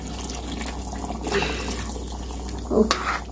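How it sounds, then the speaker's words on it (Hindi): Water pours and splashes steadily into a cooking pot, with a brief louder gush near the end. "थोड़ा सा और डाल देते हैं पानी हम"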